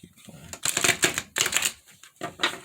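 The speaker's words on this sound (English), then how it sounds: "we're just gonna do one shuffle here" A deck of tarot cards is shuffled in quick riffling bursts of crisp, papery flutter, several clustered in rhythm and heard close, with a voice speaking briefly nearby.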